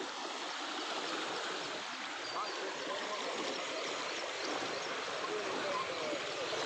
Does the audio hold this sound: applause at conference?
no